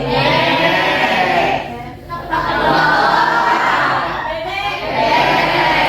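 A crowd of people imitates goats, bleating together loud and sustained, in two long waves with a short break between.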